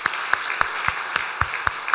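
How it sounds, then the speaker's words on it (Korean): A church congregation at a Sunday service at Samcheok Jungang Church applauds a retiring deaconess. The clapping is steady and fairly even, with sharp, regular claps standing out above a softer wash of hands, and no talking. "우리 박수로 축하하도록 하겠습니다"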